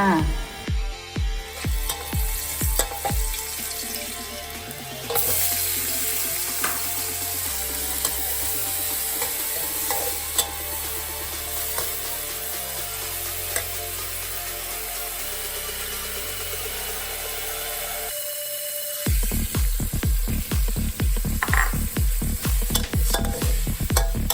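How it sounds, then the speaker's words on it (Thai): Curry-powder crab stir-fried with a splash of coconut milk in a pan, with steady sizzling and repeated scraping, clacking stirs that pause briefly near the end and then resume, close and loud. "อันนี้ใส่น้ำกะทินิดนึงนะคะมาจุ่มกันเลยค่ะ"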